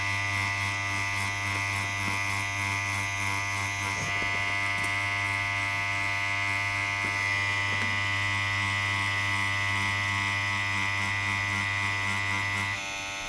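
Electric tattoo machine shading with the needle held at a slight angle: a steady, close, high-pitched motor buzz with a constant low hum, running without a break for the whole stretch and stopping at the end.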